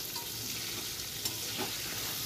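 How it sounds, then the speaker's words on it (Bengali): Pointed gourd slices fry in white oil, giving a steady close sizzle with light stirring and scraping throughout, no voices. "পটল ভাজাগুলো এক পিঠ হয়ে গেছে, আমি আর এক পিঠ উল্টে নেব।"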